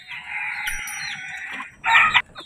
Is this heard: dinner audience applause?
no